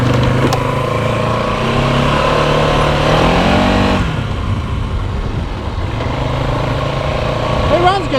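An ATV engine idling and running steadily close by, a loud continuous droning hum with a brief shift in pitch partway through, while someone talks over it.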